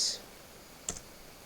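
A single computer keyboard key is pressed to enter a command, giving a short sharp click partway through an otherwise quiet stretch after a faint brief hiss.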